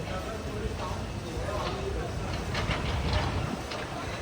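The Trichy to Trivandrum Intercity Express pulls away from a town station, giving a steady low rumble with faint rhythmic clatter of wheels, heard from on board while someone talks over it.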